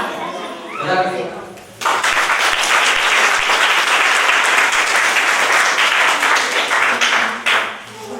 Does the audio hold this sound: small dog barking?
no